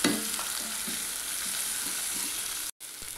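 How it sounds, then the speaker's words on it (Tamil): Green chillies and curry leaves sautéing in oil in a pan for vermicelli upma, steady sizzle with light stirring taps, close and alone. "அதை சேர்த்துட்டு ஒரு கொத்து கருவேப்பிலை இதையும் சேர்த்துட்டு வதக்கலாம்."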